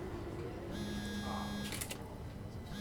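A phone vibrating in the video game SOMA, heard as a steady electric buzz with a sustained hum lasting over a second, fairly quiet beneath low background tones.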